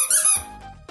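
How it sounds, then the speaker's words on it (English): Squeaky pig toy gives a sharp, bright squeak followed by a softer airy wheeze as it reinflates, close and alone. "I bought a box of squeaky toys"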